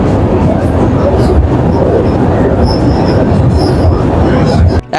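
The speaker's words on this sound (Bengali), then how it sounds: "এখন আমরা চলেছি সরাইঘাট ব্রিজের ওপর দিয়ে।" Saraighat Express passenger train rolling across the Saraighat rail bridge over the Brahmaputra, a loud, steady close rumble of wheels and carriages with faint metallic tones, cutting off abruptly near the end.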